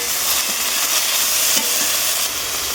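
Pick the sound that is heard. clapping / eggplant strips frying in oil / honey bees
eggplant strips frying in oil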